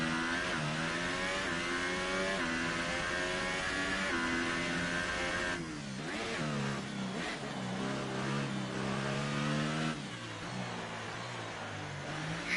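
A Formula 1 car in a sim racing game screams through its gears, the engine pitch stepping down sharply through repeated downshifts and climbing again, close and steady without any talk.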